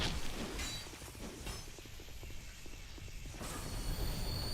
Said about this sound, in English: I love how the door, too, takes like a day and a half to open.